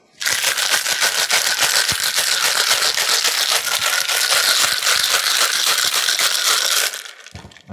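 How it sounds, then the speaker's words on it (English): Rapid, continuous rattling of ice inside a cocktail shaker, loud and steady for several seconds before stopping abruptly. "I'm gonna shake it up."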